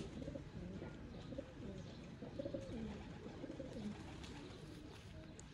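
Soft, low pigeon coos repeat steadily in a murmuring flock, with faint chirps scattered above; no talking.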